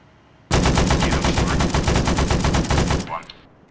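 Sustained automatic gunfire in the military shooter Arma 3, a loud, rapid burst of shots lasting about two and a half seconds before cutting off abruptly, with no voices over it.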